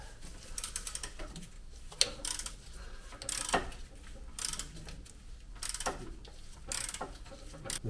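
A hand ratchet clicks in uneven bursts as an MX-5 engine's crankshaft is turned over by hand, sharp close mechanical ratcheting with short pauses between strokes and no voices.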